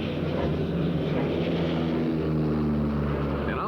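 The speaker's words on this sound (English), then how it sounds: "observation aircraft with an airborne forward controller has been working with 2 Phantom jets" An observation aircraft passing overhead, its propeller engine droning steadily and loudly with a constant throbbing hum that holds for several seconds, heard alone without voices.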